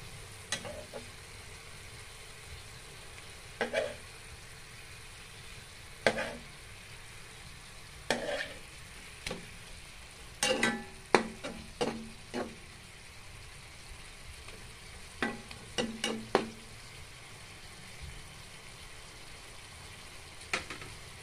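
Tuna simmering in coconut milk in a pan, with a low, steady sizzle broken by sharp, irregular scrapes and clacks as the fish is flipped and stirred, and no talking.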